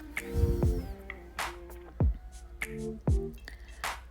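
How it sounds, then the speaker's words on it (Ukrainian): Dissolved gelatin is strained through a sieve while making a cake jelly layer. The clip holds a quiet, close run of irregular wet drips and small squishy splats, with short gaps between them. "Далі беру сито і просію просіджую, щоб е, не було зернятків"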